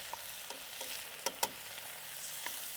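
Greens sautéing quickly in a hot pan, a soft steady sizzle broken by a few sharp clicks and taps from stirring, with no voices.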